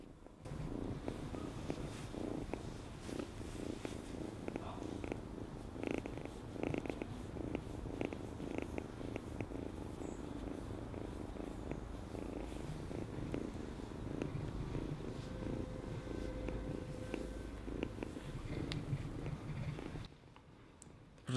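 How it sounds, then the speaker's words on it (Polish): A cat lying down purrs steadily and close for about twenty seconds in an indoor room under renovation, a low continuous rumble with no talking. "Kotek leży."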